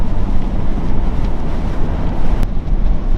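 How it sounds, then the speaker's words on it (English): Strong hurricane-force wind from Hurricane Irma roars in a steady, loud broadband rush, buffeting the microphone while driving, with gusts swelling and easing throughout and no talk. "It's windy now."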